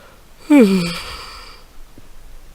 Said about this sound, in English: oh, darn yawn